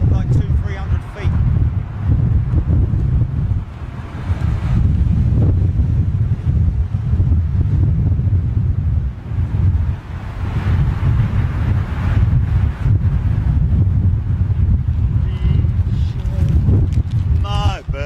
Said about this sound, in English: Might not seem it, folks, but it is quite blustery up here.